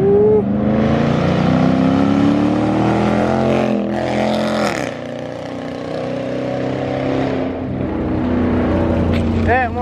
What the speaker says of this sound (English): I'm about to do a quick little flyby